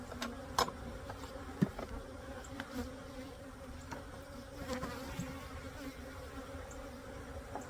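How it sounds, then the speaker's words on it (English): Honey bees buzzing steadily around a brood frame from an angry hive, a soft continuous drone with scattered louder passes of individual bees, close and alone without voices. "I'm going to shake this frame of bees."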